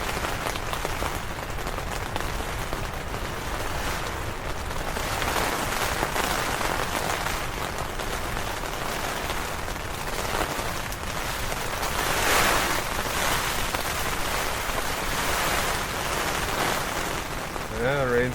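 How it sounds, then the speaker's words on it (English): Heavy rain pours onto a tent during a severe thunderstorm, a dense, unbroken hiss and patter with gusts of wind swelling and fading, loud and close throughout. "the rain's coming in a little bit heavier"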